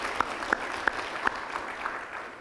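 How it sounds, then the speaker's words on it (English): A round of applause from a law conference audience: a short burst of steady clapping, with a few sharper individual claps standing out, heard alone with no talking. "So let's have a round of applause for everybody that's able to put this conference together."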